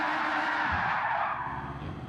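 In a racing sim video game, locked tires skid under braking with a loud, sustained hiss-screech that holds steady for about two seconds before easing slightly.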